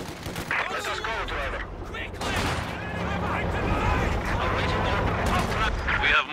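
Gunfire from an infantry attack on a vehicle in the World War II strategy game Company of Heroes 2 rattles in continuous bursts and booms, mixed with battle noise and voiced unit callouts.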